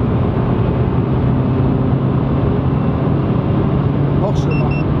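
A Renault Clio running Stage 1 tuned engine software pulls hard at full throttle in fourth gear, a steady, loud engine drone and road roar filling the cabin throughout.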